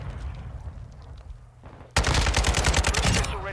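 AK rifle in a video game firing a sustained fast automatic burst, loud and close, after a quieter stretch of background game noise.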